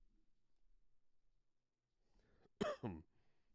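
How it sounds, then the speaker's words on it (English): After a quiet stretch, a single sharp cough bursts out close by, followed by a brief second hack. "annoying cough I got going on all day"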